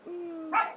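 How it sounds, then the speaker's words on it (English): Dogs sound off indoors with a sustained whine that breaks into one short, sharp bark, moderately loud and close, with no speech over it. "I apologize for the dogs."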